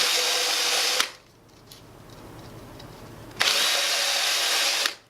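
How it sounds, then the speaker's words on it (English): A power drill whines loudly in two bursts, each lasting about a second or more with a quiet pause between, while boring holes in a DIY bird feeder. "And you just drill all 4 of those holes."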